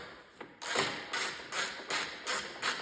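Bolts on a Cub Cadet snowblower carburetor being gently snugged down with a ratchet, a quiet, even series of about five clicking ratchet sweeps, close up and alone.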